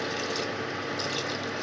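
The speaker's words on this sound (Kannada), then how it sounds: "ಸುಮಾರು 1 ಲೋಟದಷ್ಟು ನೀರು ಹಾಕಿದ್ದೀನಿ ನೋಡಿ ನಾನು" About a glass of water is poured into a pot of lentils, giving a brief, steady splashing pour with no talking.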